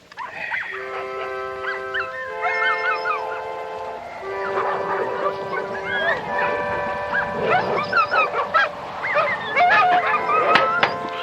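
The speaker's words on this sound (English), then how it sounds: "Dogs are noisy" Several dogs bark, yip, whimper and howl in a rising chorus outdoors at night, sounding fairly close and overlapping one another, with a low steady background beneath them.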